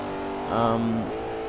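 A tuned Audi RS2 Avant in Forza Motorsport 4 gives a short engine rev, its pitch rising and then falling back within about half a second, under a steady in-game engine drone and a voice.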